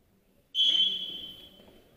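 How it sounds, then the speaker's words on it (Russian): A single sharp referee's whistle blast at a youth football match, starting abruptly and trailing off over about a second and a half, alone over quiet background. "По свистку."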